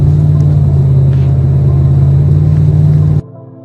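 A vehicle riding down Highway 183 near Dallas–Fort Worth, Texas gives a loud, steady low road rumble from inside the cabin that cuts off abruptly near the end.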